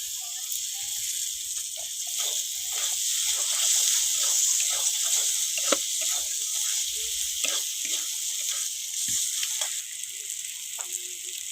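Chopped tomato with cumin and coriander powder sizzling in a pan, a steady hissing fry with soft crackles and occasional stirring scrapes, close and alone without talk.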